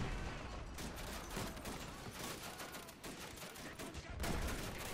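Machine-gun fire rakes a hilltop during a French charge at Fort de Vaux in a WW1 video game. It is a dense, continuous rattle of overlapping shots with no real pauses, sounding somewhat distant and muffled.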